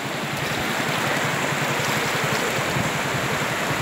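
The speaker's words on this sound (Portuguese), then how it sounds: "Muita água aqui, o Rio Ipanema hoje, né?" The Ipanema river running flooded after two days of heavy rain, a loud, steady rushing roar of fast water that fills the whole stretch with broad, constant noise and no talk.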